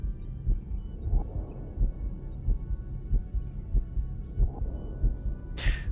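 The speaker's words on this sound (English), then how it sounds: "Hear that heartbeat? That's your heartbeat" A heartbeat sound effect from the Star Trek: Voyager - Across The Unknown video game thumps in a steady, low, muffled rhythm, repeating about once per second with no talking over it.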